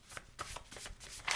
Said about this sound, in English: Just getting some more cards.